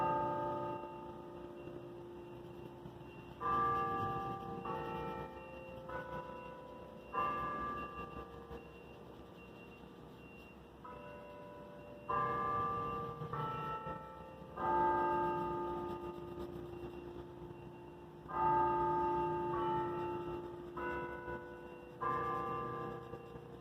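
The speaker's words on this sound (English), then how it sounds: "Oh, there's the church bells." Church bells chime two o'clock in the distance, a series of melodic peals in bursts separated by short gaps, faint and heard alone in an otherwise quiet room.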